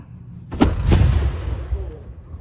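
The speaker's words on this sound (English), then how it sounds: "the microphone simply didn't pick up how loud this cannon really was" Cannon firing a powder charge outdoors by a lake in Tennessee, a single sharp boom followed by a second blast and a long rumbling decay, heard alone at a distance.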